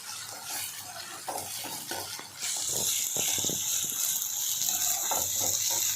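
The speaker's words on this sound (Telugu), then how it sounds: "ఇది కొంచెం పచ్చివాసన పోయేంత వరకు ఇలా కలుపుతున్నాం" A frying mixture stirred in a regular non-nonstick pan, with repeated scraping strokes of the spoon and a loud sizzle that swells partway through, heard close up without talk.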